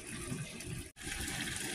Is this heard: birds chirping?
no